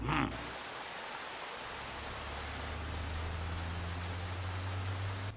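Steady, even rain hiss, fairly quiet and continuous, with a low engine-like hum underneath, as if heard from inside a vehicle.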